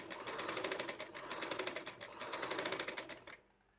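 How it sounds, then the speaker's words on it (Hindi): A sewing machine stitches a fabric seam on a garment with a chalk-and-daman slit design, running as a fast, even mechanical chatter that stops abruptly just before the end. "ऐसे हम इसकी सिलाई कर लेंगे"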